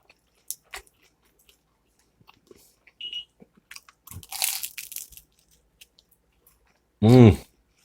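Crunchy shrimp spring rolls being bitten and chewed close to the microphone, scattered crisp crunches with a louder burst in the middle, followed by a short hum of appreciation.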